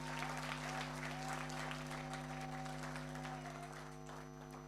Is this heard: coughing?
no